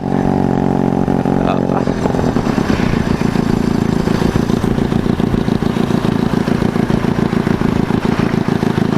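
A heavy motorcycle engine runs loud and close, its rapid, throbbing pulses settling into a steady rumble that continues without pause.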